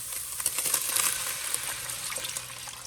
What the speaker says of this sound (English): Then we're going to add 3 cups of beef broth.